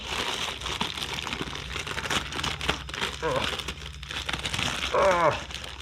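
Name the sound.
crinkling strong plastic packaging being opened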